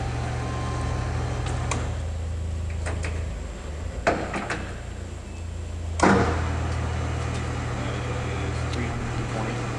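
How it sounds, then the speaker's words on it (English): A Southwest Industries TRL 1440 EX CNC lathe, a 14-inch swing machine with 40-inch centers, hums steadily at low speed with a constant drone, broken by a few knocks and clunks midway. "We're going to run her for you. At 60 RPM."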